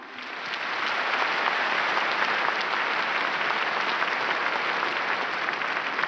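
A large audience at a Pyongyang concert for inter-Korean peace greets an orchestra with steady, dense applause that builds within the first second and holds evenly and loudly throughout.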